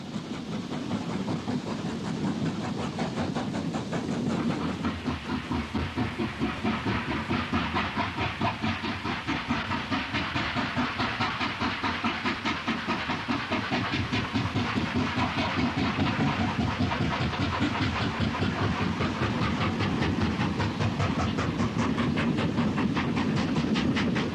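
A 1960s Pennine steam train climbs steeply out of the station toward Bowling Junction on a 1 in 50 gradient, a steady loud rhythmic chugging and clatter with hiss, continuous and unbroken throughout.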